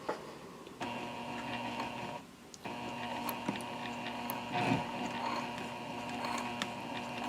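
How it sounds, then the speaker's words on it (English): A sewing machine running a steady, even stitch along a zipper at a length of about 2.5 to 3, whirring quietly with a brief pause partway through and light ticks around it. "we'll just be sewing 1/8 of an inch away from the edge of the zipper"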